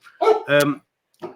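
A pet dog barks at home, probably at a delivery arriving: three sharp, close barks, two in quick succession and then a shorter one after a brief pause, with nothing else around them.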